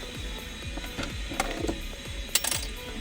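A ratchet clicks in quick repeated bursts while a T15 bolt is loosened under the dashboard of a Mini Cooper, with rapid pawl ticks and a few sharper metallic clinks close up; no voices.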